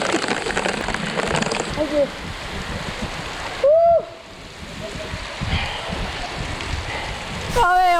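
Heavy rain patters and splashes on the river under a bridge on the Moisie River during a canoe trip in a storm, a dense steady hiss with dripping and water sounds, a brief voice and a few squeaky tones cutting in.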